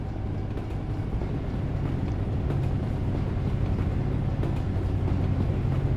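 A low, steady rumble of a train rolling by in the video game American Truck Simulator, continuous and fairly distant, with rattling mechanical texture throughout and no voices.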